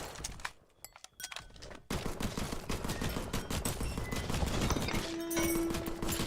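Rapid bursts of gunfire from the horde-survivor shooter game Guns 'n Goblins crackle after a short quiet stretch, continuing dense and steady to the end.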